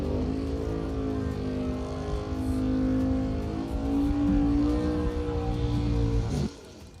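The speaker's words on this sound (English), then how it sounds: "Both drivers, burnouts complete." Drag racing cars idle and rumble loudly with a deep, steady engine drone at a Christmas bracket race event, the roar holding for over six seconds before dropping away sharply.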